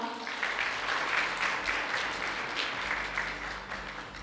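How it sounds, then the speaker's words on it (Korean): Audience applause at a quantum AI tech conference, a steady, soft wash of many hands clapping throughout, slightly distant and without talk. "큰 박수로 맞이해 주시기 바랍니다."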